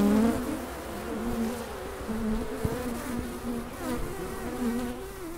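Honey bees buzz close around a beehive in a steady, wavering drone that rises and falls slightly, alone with no talk.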